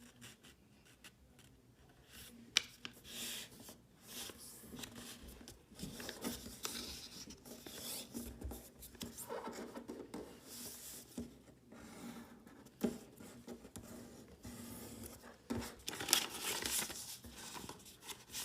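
Close, quiet paper handling as a square sheet is folded along its diagonals into an origami base, with soft rustles, creasing rubs and sharp crinkles coming in irregular bursts.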